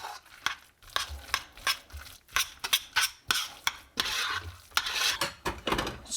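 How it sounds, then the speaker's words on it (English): A spoon scrapes and clinks around a skillet of rabbit stew mixture in repeated short strokes, close and fairly quiet, with no talking. "basically it's just a matter of stirring it all up"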